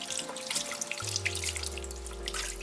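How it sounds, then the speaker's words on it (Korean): Wild chives (dalrae) washed by hand in water, with close splashing, dripping and trickling alongside running tap water, continuous and steady. "세 번째 씻을 때는 묶은 고무줄을 벗겨내고 전체적으로 깨끗이 씻어서"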